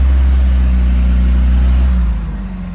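A rock crawler's engine labours up a rocky canyon trail at Tie Rod Canyon. The loud, close, low drone holds steady, then eases off near the end.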